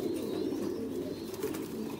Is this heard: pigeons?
yes